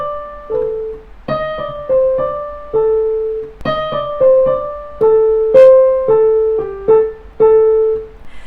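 Piano accents played by leaning in with firm pressing arm force rather than harshness, a phrase of repeated notes and chords with rounded, full attacks in a steady rhythm, close and clear with no voices.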